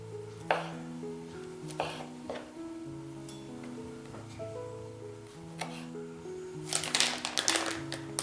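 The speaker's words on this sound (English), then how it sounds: "I have some fish balls and beef balls. I like to slice each ball into 3 slices." A knife slicing fish balls and beef balls on a board into about ten soft, scattered taps, faint and close, with a quicker cluster of cuts near the end over quiet background music.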